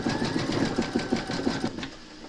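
A computerized embroidery machine stitching a red thread collar onto a scarecrow appliqué shirt in the hoop; a steady, rapid mechanical chatter of the needle, close and continuous, easing off toward the end.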